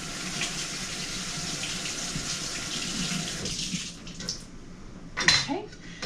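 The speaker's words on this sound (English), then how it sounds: "so we're gonna wash up." A kitchen tap runs for hands being washed, water splashing steadily for a few seconds before shutting off, followed by a brief clatter near the sink.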